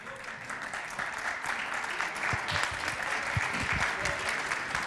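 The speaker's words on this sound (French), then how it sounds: "On peut les applaudir" Conference audience applauding speakers being introduced, a steady sustained clapping from a large crowd throughout, with occasional louder individual claps close by.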